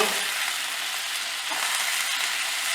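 Vegetables seasoned with salt sizzle gently in a pan while being lightly sautéed for a Bengali mourola fish curry, a steady close-up hiss with no voices.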